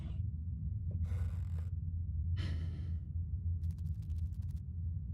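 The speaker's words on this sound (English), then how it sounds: "definitely something breathing behind that door" A creature breathing behind a door in the Penumbra: Overture video game, a few separate raspy breaths and a snort over a steady low ambient drone, fairly faint.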